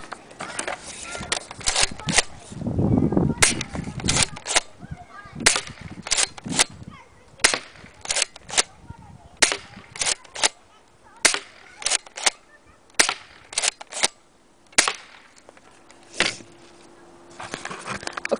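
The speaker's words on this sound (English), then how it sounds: "So right now I'll show you how accurate the shotgun is." A Crosman Swat Defender airsoft shotgun fires at a target in a long series of sharp, snappy cracks, spaced irregularly a second or so apart, loud and close, with brief breaks between shots.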